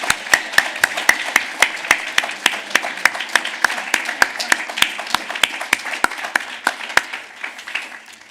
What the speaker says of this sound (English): can we give all the panelists a round of applause for all the candidates?